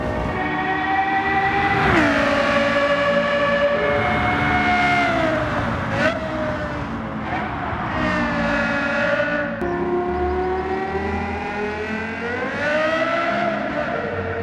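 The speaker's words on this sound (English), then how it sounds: "I was surprised by the incredible revving of the engine, almost like a motorcycle" A Lexus engine in Gran Turismo 7 revs hard and high, climbing and dropping repeatedly in a loud, continuous, motorcycle-like wail, with pitch sweeping up and down through gear changes over about fourteen seconds.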